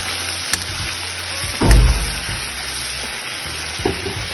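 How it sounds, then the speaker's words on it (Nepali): Chicken pieces being stirred and fried in oil in a pan for chicken chilli, giving a steady low sizzle with a louder scraping clatter partway through and softer stirring knocks later. "अब यो चिकनलाई चाहिँ अब धीरे राख्छु हामी चलाइराख्छौँ, पकाइराख्छौँ"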